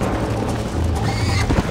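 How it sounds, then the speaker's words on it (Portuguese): Horse galloping in Red Dead Redemption Remastered, played on PC, a loud steady run of hoofbeats with a brief snort or whinny near the end, no voices. "É o segredo pra correr pra caralho com o cavalo aqui"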